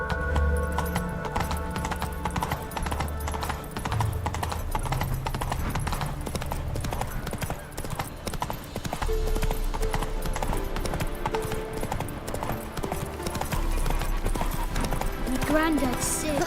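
Roach the horse gallops in The Witcher 3, with steady clip-clop hoofbeats running throughout, mixed with game music and a voice talking over them.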